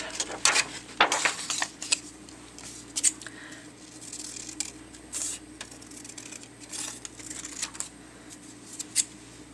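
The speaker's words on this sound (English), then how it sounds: "I'm just going to use my scissors," Crisp snipping of scissors through paper, several short cuts in irregular bursts, close and fairly quiet against a faint background hum.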